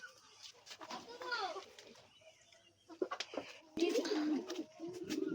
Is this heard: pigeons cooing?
yes